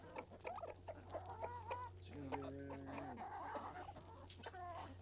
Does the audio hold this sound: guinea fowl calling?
yes